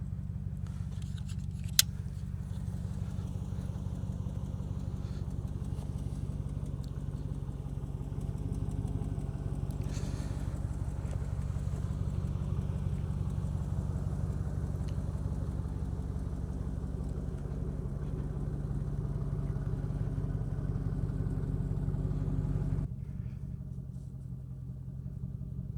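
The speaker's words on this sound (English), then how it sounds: "It runs half decently for year-old fuel, so it doesn't run very well, and it stutters and spitters a little bit." A GMC Yukon engine idles roughly on year-and-a-half-old fuel, a steady low hum that stutters slightly through its long run, with one sharp click early and the engine cutting off near the end.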